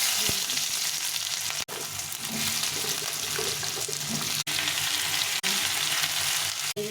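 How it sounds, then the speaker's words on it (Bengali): Whole cumin seeds sizzle and crackle in hot oil in a pan, a close, continuous frying hiss with a few brief dips throughout. "গোটা জিরে নিয়েছি, জিরেটা দিয়ে দিলাম।"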